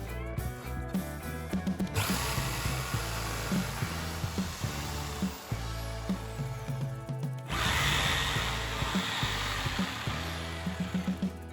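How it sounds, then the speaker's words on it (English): A power drill whines steadily as it cuts through material while building a mini camper, pitch rising and falling with bursts of harder cutting, close and loud throughout. "I'm gonna turn around and drill from the other side to get a nice cut"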